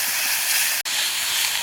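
Chopped onion and tomato sauté in a pan for dal curry, a loud, steady hissing sizzle heard up close that cuts out for a split second midway, then resumes, with no talk.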